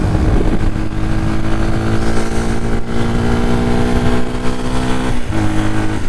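A Yamaha WR 125 X motorcycle engine runs loudly up close, holding a steady high-revving drone with slight rises and dips and no talk.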